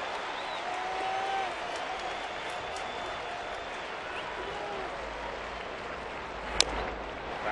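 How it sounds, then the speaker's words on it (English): Large baseball crowd of about 32,000 at Safeco Field cheering for pitcher Felix in a 2009 Mariners game, a sustained distant roar of applause with one sharp crack near the end. "The crowd trying to create an emotional wave here for Felix."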